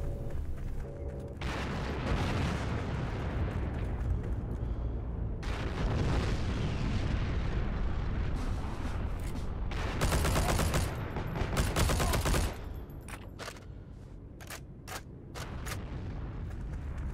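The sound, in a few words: explosions in the video game Heroes & Generals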